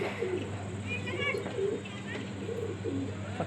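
Punjabi pigeons cooing close by, soft repeated throaty coos over a steady low hum, with someone talking faintly in the background.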